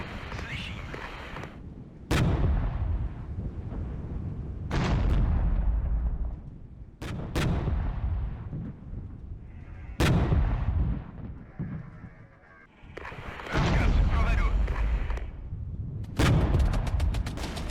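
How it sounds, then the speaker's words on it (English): Gunfire hits units in the real-time strategy war game Regiments, with sharp, loud cracks and booms arriving every few seconds over a constant rumbling battle din. "Shots coming in from the side."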